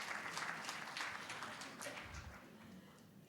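Audience applause greets the poet Bhagyeshbhai as he arrives on stage at the Nippon Odori 12th Japan Festival, a steady dense clapping that holds throughout and slowly fades toward the end.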